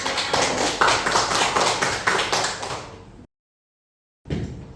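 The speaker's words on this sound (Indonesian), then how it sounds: "Bagus, tepuk tangan." Classroom of students clapping together, a dense burst of rapid applause for about three seconds that cuts to silence before another brief burst starts.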